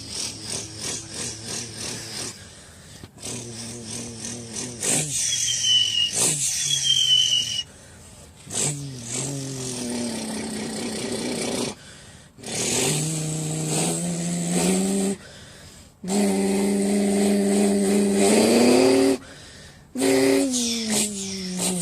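A boy imitates motorcycle and car engines with his voice, making a series of revving, rising and rattling engine sounds in bursts separated by short pauses, loud and close.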